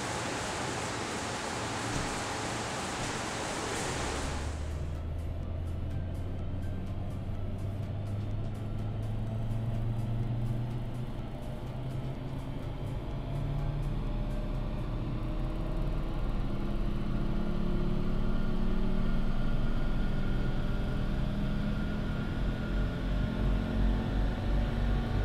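Volvo 850R with a 250-horsepower engine running on a dynamometer: a loud, continuous engine drone with rumbling roller noise and a rising pitch as it pulls, the sound swelling slightly toward the end, no talk.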